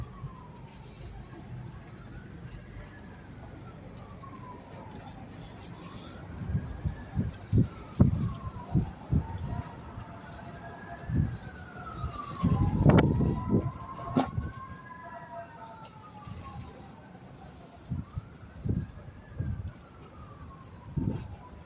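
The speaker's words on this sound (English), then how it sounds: "Well, the sirens are going away. First they were getting closer, now they're gone." Emergency vehicle sirens wail and sweep in repeating rising-falling cycles at a distance during high winds, with strong gusts buffeting in bursts throughout and faint voices now and then.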